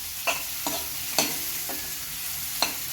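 Ridge gourd pieces sauté in masala as a spoon stirs them, with a steady light sizzle broken by several sharp scraping knocks against the pan at uneven intervals, close and clear.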